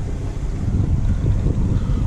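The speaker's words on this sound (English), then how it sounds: "Wind is pushing us." Low, rumbling wind buffets the microphone steadily while docking a boat, a constant blustery roar with no voices.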